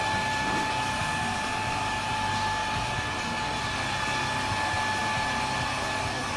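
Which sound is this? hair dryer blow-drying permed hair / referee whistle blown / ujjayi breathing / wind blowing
hair dryer blow-drying permed hair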